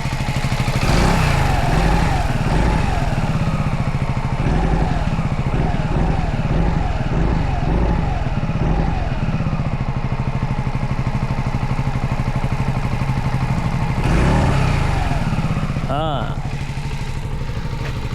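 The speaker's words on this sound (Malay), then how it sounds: "Kita dengar bunyi exhaust motor ni." A QJ Motor ATX 250X adventure scooter's exhaust runs loud and close throughout, with a steady engine drone that rises in pulsing revs, and a voice talks over it for much of the time.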